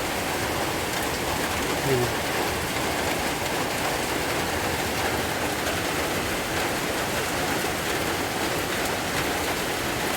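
Steady rain pours outdoors as a dense, even hiss without a break, close and constant, with no distinct drops standing out.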